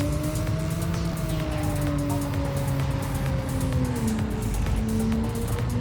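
A car slides across the ground in the video game Dreams, giving a steady engine-like drone with a slowly falling pitch, continuous and fairly loud for the whole stretch.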